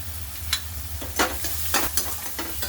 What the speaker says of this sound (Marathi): आता मसाले छान परतले गेले.